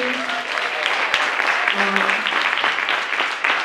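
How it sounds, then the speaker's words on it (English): Audience applause after a university event speaker asks for a round for IT, dense steady clapping filling the clip with a few brief voices cutting through. "Give a round of applause for IT."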